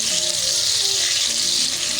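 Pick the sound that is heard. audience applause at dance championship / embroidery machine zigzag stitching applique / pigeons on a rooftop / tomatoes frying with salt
tomatoes frying with salt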